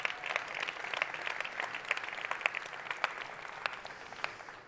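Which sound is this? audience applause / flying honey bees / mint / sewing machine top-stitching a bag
audience applause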